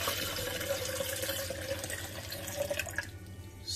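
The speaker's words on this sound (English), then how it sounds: "I'm going to add our 3 cups of water." Water runs and pours steadily into a blender for a few seconds, close by, then tapers off near the end.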